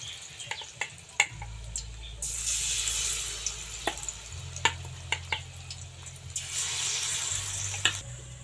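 Semolina ros bhori pitha fritters frying in hot oil, a steady broadband sizzle swelling and easing over several seconds, punctuated by sharp utensil clicks and taps close by, with a low background hum and no talking.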